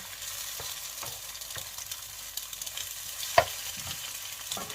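Rice stir-fried in lard crackles and sizzles steadily, with scattered spatula scrapes and one sharp clank near the end; nobody speaks.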